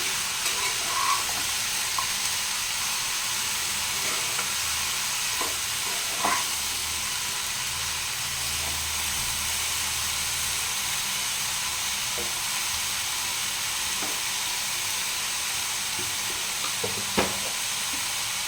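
Ridge gourd and shrimp frying in a pan, a soft continuous sizzle and hiss with occasional light clicks of a spoon stirring.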